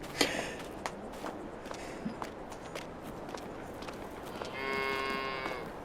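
Cows moo in the farming video game Farming Simulator 22, a long low moo near the end over shuffling hoof footsteps and scattered clicks, with no talking.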